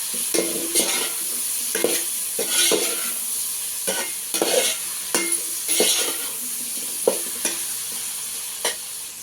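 Lentil sambar ingredients frying in a pan, a continuous close sizzle punctuated by regular scraping stirs of a spoon roughly every second, fairly loud and alone without talk.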